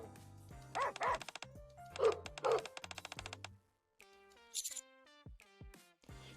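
Cartoonish dogs in the video game Nikke, during its Bow Wow Paradise event, give several short yips and bow-wows in quick bursts, mixed with bright musical chimes and game sound effects, with no talking.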